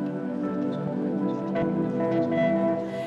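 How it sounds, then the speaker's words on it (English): Steady rain falls at the foot of a landslide, a continuous dense patter of drops on surfaces with soft drips, even and unbroken with no voices. "It's raining, so they have to be careful when taking soil samples."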